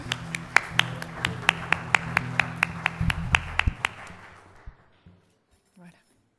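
Hands clap in a church service in a sparse, distinct, rhythmic burst of applause for a fiancé drummer, each clap sharp and clear over low room sounds, then tapering off to silence.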